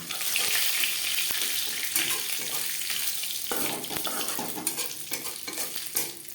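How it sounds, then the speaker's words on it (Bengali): A bay leaf and Bengali five-spice sizzle in hot oil in a kadai just used for frying fish, a steady close hiss with faint scraping and clinks throughout. "মাছ ভেজে নেওয়া কড়াইতে আবারও তেল দিয়েছি। ফোড়নে দিয়ে দিলাম একটা তেজপাতা,"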